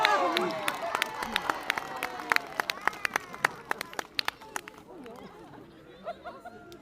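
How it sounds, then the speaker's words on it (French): An audience claps for Roberto at a live show, the applause starting loud and dense, then thinning into scattered, sharp individual claps before fading, with crowd chatter underneath. "Applaudissements pour Roberto."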